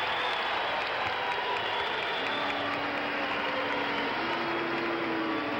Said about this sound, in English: You can hear a lot of boos through this crowd as well as the cheers for him